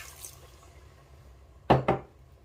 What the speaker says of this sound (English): And I add water